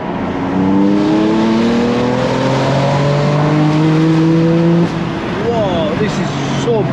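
BMW M4 driving hard through London streets, engine note rising in stepped harmonic sweeps that climb and fall with gear changes, loud and close throughout, with excited voices talking over the top.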